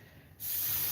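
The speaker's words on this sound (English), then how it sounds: "I'm just spraying it down with this pink spray stuff" Pink hair spray bursts on abruptly after a short quiet moment, becoming a loud, continuous close-up aerosol hiss directed onto hair that holds steady to the end.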